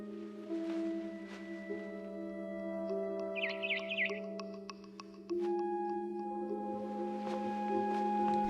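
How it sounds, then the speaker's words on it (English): A barn swallow chirping outside a window in a video game, small bright tweets in a quick cluster over sustained soft musical tones, fairly faint. "It was a barn swallow going back to her nest."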